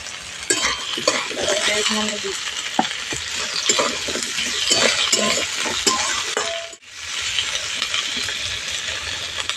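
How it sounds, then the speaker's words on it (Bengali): Chopped onion, beans, potato and carrot sizzle and fry steadily in a pan, a constant hiss broken by repeated scrapes and clinks as a utensil stirs them, with a brief pause near the end. "এগুলো ভালো করে এবার ভেজে নেব"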